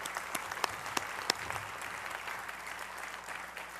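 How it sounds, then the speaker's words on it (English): An outdoor audience claps at a civic event on the Wharf, with a few sharp, distinct claps standing out from the steady wash of applause. "Could we give them all a big round of applause?"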